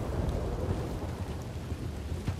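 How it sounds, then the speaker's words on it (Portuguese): Stormy weather in Red Dead Redemption 2, with thunder rumbling low beneath steady rain, a continuous moderate wash of storm noise and no speech. "relâmpago"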